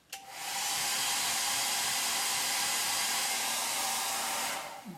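Hair dryer on a cool setting blows steadily over a freshly cleaned chalk transfer, switching on with a click, holding a loud, even whoosh with a faint motor whine, then cutting off.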